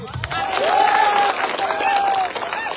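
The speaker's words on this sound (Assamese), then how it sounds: "যদি লাগিব আকৌ এবাৰ হাত তালি" A crowd claps and cheers at an outdoor political rally speech, with a brief burst of mass applause under a loud amplified voice and whistles rising over the noise.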